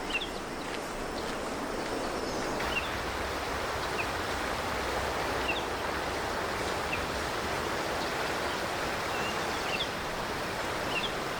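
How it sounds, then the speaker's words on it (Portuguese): A small, crystal-clear mountain stream in Patagonia flows steadily near El Chaltén in autumn, a soft continuous wash of water at moderate distance with faint bird calls scattered above it. "A água deste pequeno riacho é tão cristalina"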